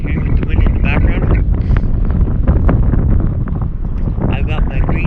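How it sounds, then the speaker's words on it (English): Strong gusty wind buffeting the microphone on a frozen lake during ice fishing, loud low rumbling roar that swells and dips continuously, while someone talks over it. "I hope you can hear me with the wind in the background."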